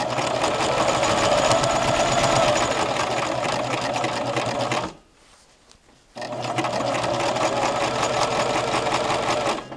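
A sewing machine stitches the seam of a patchwork placemat in a loud, steady mechanical whir, pauses for about a second midway, then starts running again.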